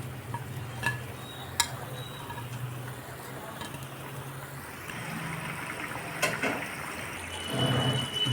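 Fried banana fritters are dropped into a simmering, watery curry, with low bubbling and stirring that rises into a louder spattering burst near the end.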